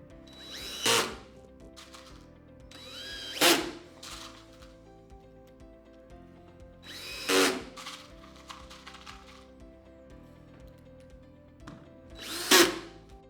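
A power drill driving screws into a Blum hinge plate, four separate short whirring bursts spaced a few seconds apart, each rising in pitch as the screw seats, close and loud over a quiet room with no speech.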